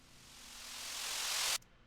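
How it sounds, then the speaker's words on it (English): A glitchy riser effect heavy in high end, made for a hip-hop style beat, a hissing noise sweep climbing in brightness and volume for a second and a half before snapping off. "this riser right here has a whole lot of high end and it sounds like super glitchy."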